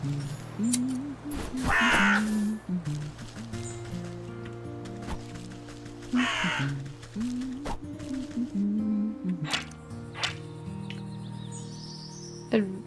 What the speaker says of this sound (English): I do love crows.